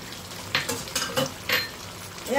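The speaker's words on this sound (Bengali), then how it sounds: "আবারও এটা একদম নাড়াচাড়া করে নেব।" A spoon stirs chicken curry in a pan, producing several quick scraping strokes over a soft sizzle, close and fairly loud, with no talking.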